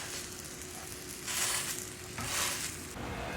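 Cabbage fritters frying in a pan after being flipped and pressed down, a steady close sizzle swelling in two louder surges, with no one speaking.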